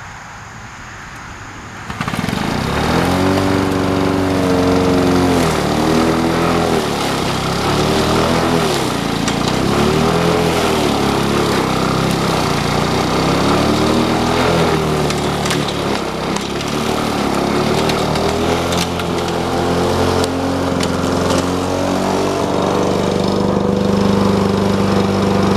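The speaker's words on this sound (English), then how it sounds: "That's with the two-stroke. I don't think it did too bad." A two-stroke commercial lawn mower starts up and runs loud and close, its engine note rising and falling as it works, with no talking.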